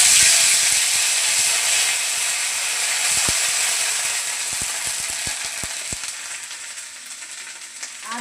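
Cardamom, cinnamon, black cumin and onion paste fry in hot oil with a steady, close sizzle and hiss, broken by scattered sharp pops and crackles, and no voices.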